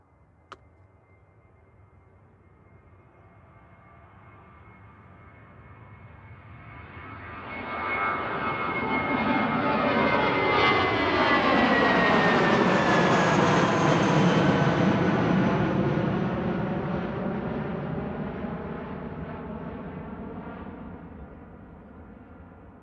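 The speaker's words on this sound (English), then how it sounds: "So here's the Titan heading off." Titan Airways airliner departing Manchester Airport for Guernsey, its engine roar swelling from faint to loud and then slowly fading as it passes, heard alone.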